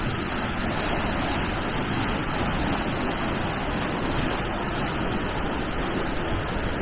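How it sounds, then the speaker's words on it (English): Water rushes into the top chamber of the Watford staircase canal locks through an opened ground paddle, a dense, steady churning roar that holds at the same level throughout, close and continuous with no voices. "My colleague Adrian is opening the ground paddle to allow water into the top lock."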